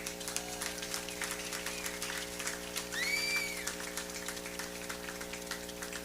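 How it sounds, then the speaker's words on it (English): Audience applause at a labor rally for the New Jersey governor, steady scattered clapping over a hum with a brief whistle-like tone midway. "give yourselves a round of applause"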